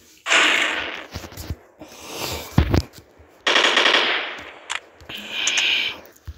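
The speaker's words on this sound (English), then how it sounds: "I'm gonna duel. Wield some pistols." Pistol gunfire in a zombie video game, bursts of sharp rapid shots interrupted by brief gaps and other game effects, loud and close.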